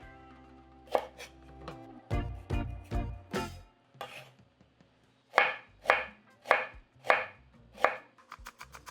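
A knife chops through a small knob of ginger on a board in a series of sharp, close knocks: a few spaced strikes, then a quicker cluster, then another run of evenly spaced cuts and a final flurry of light taps.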